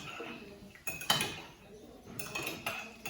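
Dry spices being stirred together in a bowl for a stew, with soft scraping and a few louder clinks and knocks of a utensil against the dish, close by with no talking.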